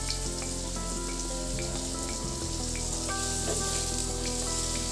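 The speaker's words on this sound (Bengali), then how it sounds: "তাপ মিডিয়ামে দিয়ে আলু লাল করে ভেজে নেব" Potatoes with salt and turmeric frying in a pan over medium heat, a steady even sizzle close by, with no voices.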